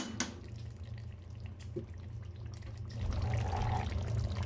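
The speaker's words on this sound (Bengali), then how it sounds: "পরিমাণ মতো আমি গরম পানি দিয়ে দিলাম" Hot water is poured into a pot of hand-grated beef cooking in its own oil. A soft pouring and splashing swell rises near the end over a steady low kitchen hum, with no talking.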